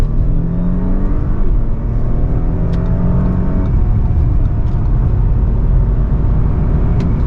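A 2019 Audi A6 Quattro S Line in sport mode accelerates hard through paddle-shifted gears, its engine a loud, steady rumbling roar with rising pitch sweeps between shifts, heard from inside the cabin with no talk.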